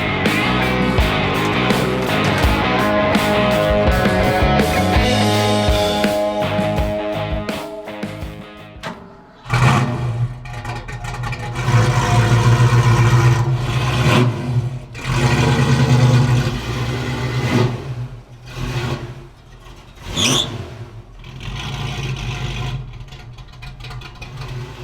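A 1965 Ford Mustang engine revs hard and steadily, then drops off abruptly at a gear shift before settling into a lower, surging rumble that rises and dips as it drives on, loud and close.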